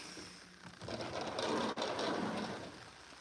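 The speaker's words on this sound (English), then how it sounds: "Listen to the rain." Steady rain hisses continuously, a dense broadband wash at moderate volume, with a brief dip partway through and no voices.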